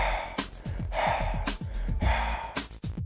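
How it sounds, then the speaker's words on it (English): Several short, sharp breaths taken in quick succession on a count during a breathing exercise, fairly close and loud, with a faint low hum underneath. "I just want you to take short breaths"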